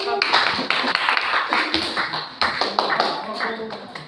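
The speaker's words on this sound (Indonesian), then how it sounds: "tepuk tangan untuk kelompok" A classroom of students claps for a group, a busy, fairly loud patter of many hands with some voices mixed in underneath.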